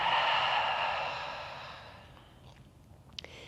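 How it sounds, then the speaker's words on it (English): A long, full exhale through an open mouth during a yoga stretching session, a loud breathy rush close to the mic that fades out over about two seconds, followed by faint small clicks. "Open the mouth, exhale, let it all the way out."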